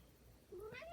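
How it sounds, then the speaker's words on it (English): A cat gives a single short, rising meow, fairly faint over a quiet room background. "Sorry about the cats"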